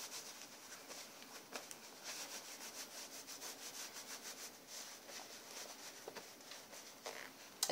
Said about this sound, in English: So I just rub them on a towel and it comes off.